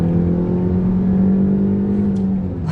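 A small SUV engine revving under hard acceleration, a loud steady drone with a rising tone held for a few seconds before easing off, heard from inside the cabin with no talk.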